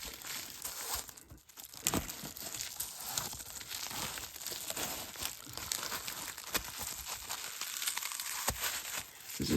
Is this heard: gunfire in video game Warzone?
no